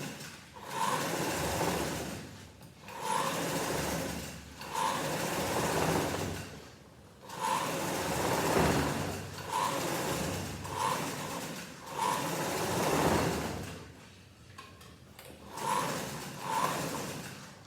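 A sewing machine stitching the outer and inner leg seams of a pair of shorts, repeated bursts of rapid mechanical whirring separated by short pauses, close and steady, with no talking.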